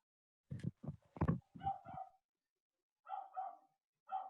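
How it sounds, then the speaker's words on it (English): A pet dog gives a few close, sharp barks and yips in quick succession, then pauses before two shorter, higher whining barks; no speech. "It's my dog barking."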